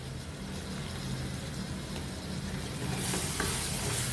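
Onion and tomato fry in a pan for dhaba style chicken, a steady close sizzle that grows brighter and louder toward the end, with no talking.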